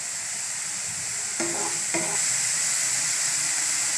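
Pointed gourd (parwal) frying in a pan over a medium gas flame gives a steady, close sizzling hiss throughout, with two brief clinks of a utensil stirring partway through.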